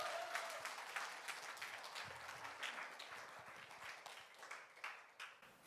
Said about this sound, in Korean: 저희가 환대의 박수로